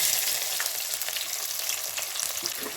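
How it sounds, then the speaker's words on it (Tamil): Chopped shallots frying in hot oil in a pan for crab curry, a dense, steady crackling sizzle close up with light stirring noises throughout, and no voices. "வெங்காயம் கொஞ்சம் நல்லா வதங்கணும்."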